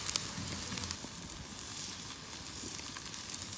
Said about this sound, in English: Here's what our steaks look like over that fire